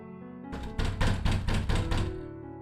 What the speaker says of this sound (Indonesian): Suara ketukan pintu terdengar semakin keras.